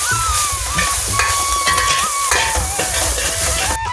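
Spices fry and sizzle loudly in a pan for a chickpea curry while a utensil stirs and scrapes against the metal, a continuous close crackle with occasional clinks.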